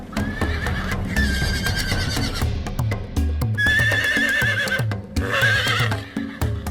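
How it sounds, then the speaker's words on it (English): A horse neighs and whinnies loudly in repeated bright, wavering calls, with low snorting and soft hoof clip-clops underneath, close and clear with no talking. "horse."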